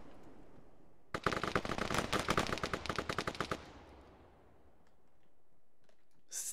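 Automatic gunfire rattles in a rapid burst of about two and a half seconds during an esports match of the shooter game Spectrum Neon Madness, then fades into quiet background ambience with a faint sound near the end.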